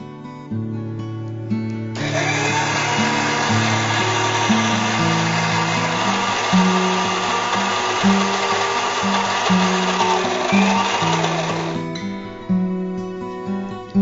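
Mixer grinder whirring loudly and steadily for about ten seconds while grinding ingredients into a fine paste for manjal kozhukattai, starting and stopping abruptly under background music.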